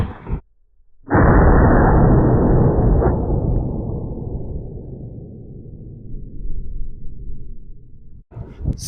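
A single loud 12 gauge shotgun blast firing a Winchester PDX1 slug from an 18.5-inch barrel into a jug, a heavy boom followed by a long rolling rumble that fades over several seconds outdoors.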